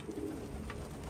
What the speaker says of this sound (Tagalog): Alright, ito na mga ibon natin.